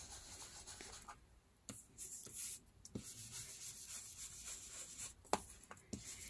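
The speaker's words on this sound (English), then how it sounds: "First I'm gonna distress it as well with same ink." Ink is rubbed along the edges of paper to distress them, making quiet, intermittent scratchy rubbing strokes with a few sharper brushes, close and alone.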